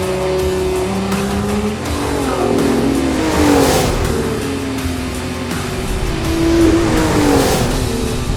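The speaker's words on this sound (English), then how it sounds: "This engine just roars." A Lotus Emira's powerful engine roars and revs continuously, rising and falling in pitch as it accelerates, loud and close with no voices.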